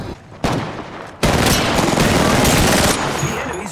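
Enemy gunfire in Apex Legends: a sharp shot, then a sustained loud burst of rapid automatic fire that rattles on continuously and tails off near the end.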